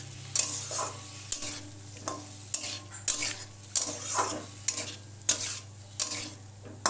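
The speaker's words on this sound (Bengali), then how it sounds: "আরও দুই তিন মিনিট ধরে কষিয়ে নেবো আঁচটা মিডিয়াম দিয়ে" Taro and koi fish curry is stir-fried over medium heat, with rhythmic spatula scrapes against the pan recurring about every half second over a soft, steady sizzle and a low hum.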